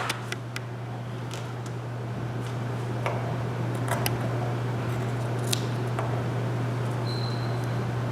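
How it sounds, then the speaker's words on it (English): Scissors trim the edges of a 1-inch interfacing strip while a sweatshirt pocket is being sewn, giving sparse, faint snips and clicks over a steady low electrical hum, with no talking. "you're going to line it up and you're going to trim off the edges."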